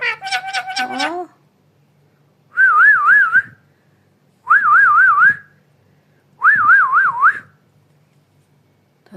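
A pet parrot gives three loud, close, warbling whistles with pauses between them. Just before them comes a burst of its chattering calls.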